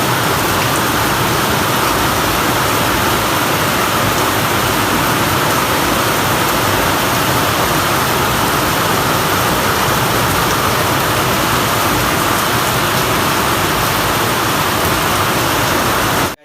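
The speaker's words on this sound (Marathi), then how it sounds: "पाऊस खतरनाक पडला" Heavy rain pours down in a dense, unbroken hiss that stays loud and steady from start to end, with no other sounds above it.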